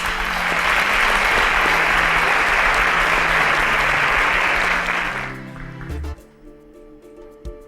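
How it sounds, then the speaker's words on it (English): An audience gives a round of applause for scientists on a televised science competition show, loud sustained clapping from many hands lasting about five seconds over a low musical bed, then cutting to the music alone. "A round of applause for our scientists."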